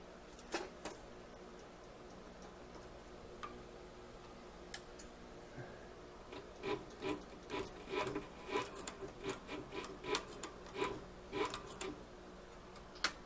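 A leather sewing machine stitches in reverse along a leather knife sheath, giving a quick run of soft, woody ticking and rubbing beats that grow denser and more regular partway through, close and moderately loud with no talk.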